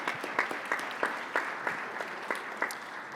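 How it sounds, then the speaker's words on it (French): An audience at a conference on municipalities and the energy transition gives warm, steady applause, moderately quiet, with individual claps standing out from the continuous patter. "Puis je vais t'applaudir."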